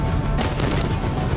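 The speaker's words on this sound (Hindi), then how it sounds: "कभी तोप के गोलों की बारिश होती है" Artillery shelling from Chinese state media footage, a dense, continuous rumble of booms and cracking blasts, loud and sustained with no pauses and no voices.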